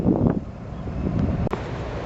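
Wind buffets the microphone beside the Rhine in Rodenkirchen, Cologne, a steady low rumbling roar throughout with a brief dip near the end.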